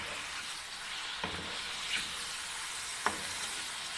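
Chicken jalfrezi frying on high heat, a constant broadband sizzle close up with a couple of soft clinks and scrapes of a spatula against the pan.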